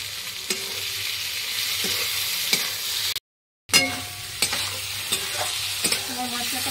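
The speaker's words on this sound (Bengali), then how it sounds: "মশলাটা কষানো এটা অনেকটা হয়ে গেছে" Spice masala for tengra fish curry sizzling and being stirred in a pan, a loud continuous frying hiss with periodic scraping strokes of the spatula, close up, broken by a short silent gap midway, no talking.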